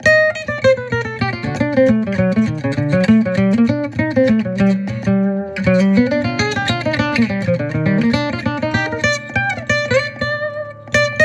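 Acoustic guitar strummed steadily through a CS Sensor pickup, bright and full chords with a walking bass line underneath, playing alone without any voices.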